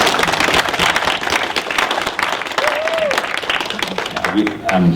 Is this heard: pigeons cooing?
no